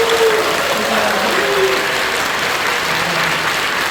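A church congregation applauds during a baptism celebration in a worship service, steady dense clapping filling the hall for several seconds, with faint voices underneath.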